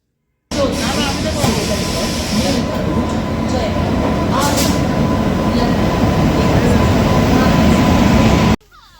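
Steady, loud rumble inside a moving train carriage travelling from Jodhpur to Jaisalmer, a continuous low roar with faint rattling and a thin tonal hum running unbroken for about eight seconds before cutting off.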